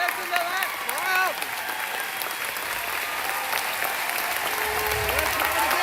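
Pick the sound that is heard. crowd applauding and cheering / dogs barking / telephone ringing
crowd applauding and cheering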